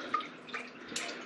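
Löwenbräu Oktoberfestbier, a pale gold German lager, pours into a glass, giving a soft close trickle and fizz with a brief splashy surge near the end, faint and with no talking.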